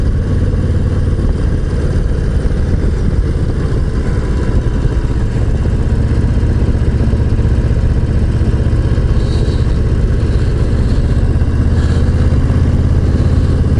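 A Harley-Davidson Low Rider ST motorcycle engine rumbles steadily and loud at close range, a continuous low droning run with no voices over it.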